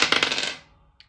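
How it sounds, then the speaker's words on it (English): Dice rolled for a cash saving challenge clatter sharply in a quick rattling burst that fades out, followed by one small click, close and loud with no talking. "I'm going to roll again to see what I get."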